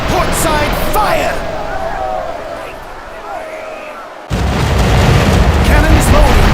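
Ship cannons firing to port in the naval strategy game Commander: Conquest of the Americas, heavy booming blasts rolling under a continuous wash of battle noise, with a sharp louder burst near the end.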